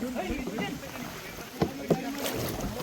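Kayak paddling on water near Udupi, with soft splashes and dips of the paddle mixed with wind noise, while people talk nearby.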